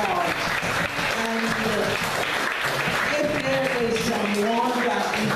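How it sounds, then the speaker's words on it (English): An audience at a church thanksgiving service in Barbados applauds children who sat their 2020 exams, steady continuous clapping with a voice singing or speaking over it. "Give them a round of applause."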